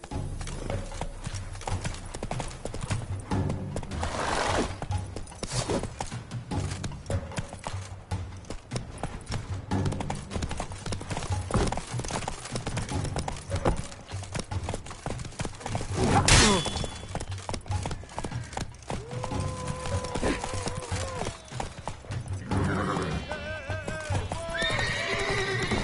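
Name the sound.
horse galloping in video game The Witcher 3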